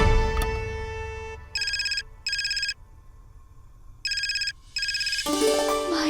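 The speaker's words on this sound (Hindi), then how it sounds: "माई का फोन।" A phone ringtone plays in short repeated bursts, two then a pause then two more, followed by a louder musical tone; the room is otherwise quiet.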